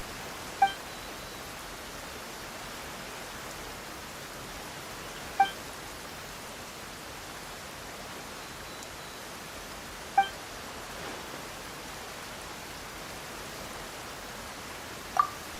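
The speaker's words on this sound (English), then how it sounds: "Why is it raining all of a sudden?" Steady rain falls in Genshin Impact's Fontaine region as a continuous, even hiss, with a faint bright ping recurring about every five seconds.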